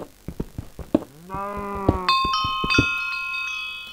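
A cow in Minecraft moos twice, long harmonic lows with a rising tone, over rhythmic clicking footsteps and a bright chime-like tone.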